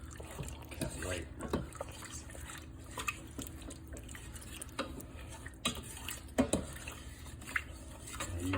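A salt and sugar brine is stirred in a pot for spicy pickles, with a spoon scraping and clinking against the pot in irregular strokes over a soft liquid swish.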